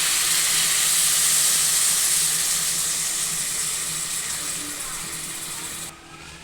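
Water added to a spiced fish curry base in a pan, heard as a steady loud hiss and sizzle that slowly softens over several seconds before dropping off near the end.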